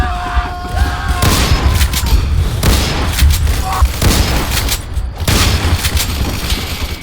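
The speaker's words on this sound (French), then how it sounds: "Ok, la bombe." Explosions and gunfire from a Roblox World War I battle game: a dense, loud barrage of booms and rapid shots rolling continuously, with a brief tonal whine near the start and a moment of voice beneath the din.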